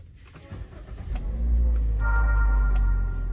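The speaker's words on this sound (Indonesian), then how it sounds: "Nah, ini saya matikan, terus saya hidupkan mesinnya." The engine of a 2022 Toyota Avanza starts up close by, with a short cranking sound that turns into a steady low idle rumble.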